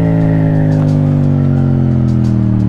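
A steady engine drone holding a low, sustained pitch, loud and close, with slight shifts in tone as it runs on.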